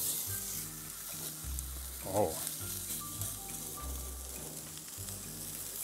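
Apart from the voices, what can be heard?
wagyu steak sizzling in pan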